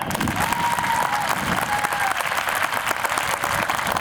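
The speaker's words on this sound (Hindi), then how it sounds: "तो पसंद आए हैं तो एक बार जोर से तालियां" An audience applauds steadily, dense clapping from a crowd that continues throughout without a break.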